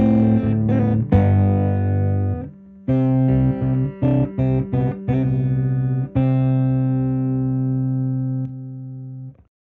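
A Fender Stratocaster played through a PRS MT15 amp head with the boost pulled gives loud, distorted electric guitar: sustained chords, then choppy muted stabs, ending in a long ringing chord that fades out.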